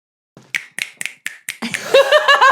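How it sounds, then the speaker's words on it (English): Finger snaps, five sharp separate clicks spaced about a quarter second apart, close and fairly loud, followed by a busier burst of tapping and brief voice-like sounds. "Finger snaps."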